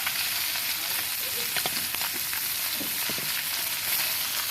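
Fish frying in oil in a pan over a wood-fired stove, a steady loud sizzle and crackle filling the clip, with a few soft stirring clicks and no talking.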